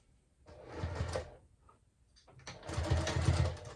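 Sewing machine stitching a straight line on a fabric clutch, two short motor runs of a second or two each, separated by a brief pause, close and fairly loud with no talking.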